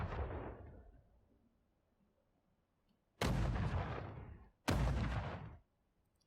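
Deep booming cannon blasts from a cannonball shot in the game Dreams, one fading blast followed by two loud, abrupt bursts about a second and a half apart, each decaying within a second.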